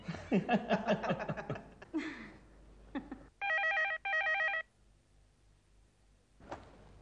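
A telephone rings in two short electronic bursts after a few seconds of laughter and chuckling, then quiet with a brief voice at the end.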